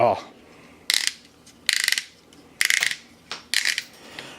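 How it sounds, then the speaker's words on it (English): Ratchet shoulder joint on an Elita-1 Voyager Class Power of the Primes Transformers toy clicks through a swivel in several separate bursts of rapid plastic ratcheting, close and clear, with quiet gaps between them. "So the shoulder does a 360 ratchet swivel ratcheting."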